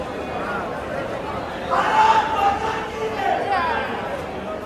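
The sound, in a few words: crowd at Wankhede stadium before an IPL match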